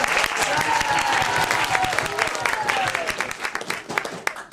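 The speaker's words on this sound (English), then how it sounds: "Another round of applause, please" An audience applauds with steady clapping that tapers off toward the end, with a voice faintly heard over the crowd.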